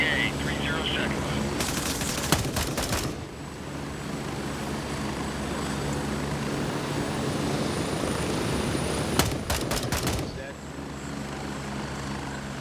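Helicopter in the video game Gray Zone Warfare, a steady rotor and engine drone running throughout, loud and close, with bursts of gunfire cracking in at two points.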